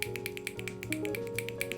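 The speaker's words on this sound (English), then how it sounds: "A big round of applause or snapping in the finger." An audience at a poetry club snaps their fingers in approval, a quick steady run of sharp dry snaps over a soft held musical tone.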